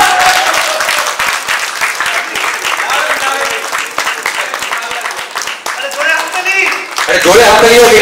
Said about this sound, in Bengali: জোরে হাততালি হোক এই মানুষটার জন্য